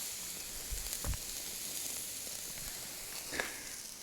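A steak sears on a cheap Walmart grill outdoors in rain and darkness. A faint, steady sizzling hiss carries on throughout, with a few soft pops and clicks and no talking.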